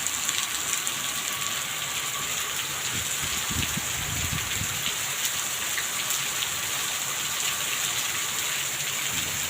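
Heavy rain pours steadily onto a surface, a dense continuous hiss with close drips and splashes, unbroken for the whole stretch.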